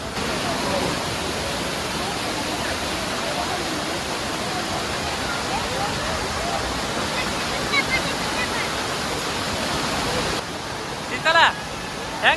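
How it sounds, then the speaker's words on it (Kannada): Amboli waterfall pouring heavily during the monsoon, a loud continuous roar of falling water that fills the whole clip, with brief faint voices near the end. "ನೀರಂತೂ ಸಖತ್ತಾಗಿ ಬೀಳ್ತಾ ಇದೆ."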